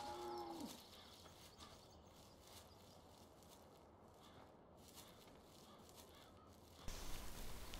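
A cow moos in a farming simulation game, a short low call at the start followed by quiet ambient farm sounds and a louder burst near the end.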